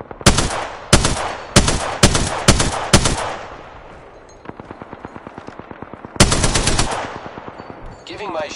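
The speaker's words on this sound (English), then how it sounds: "The enemies are shooting at me" Enemy gunfire in a video game at Worlds Edge: loud, close bursts of rapid automatic shots in a repeating pattern, a quieter stretch of lighter rattling fire, then another heavy burst.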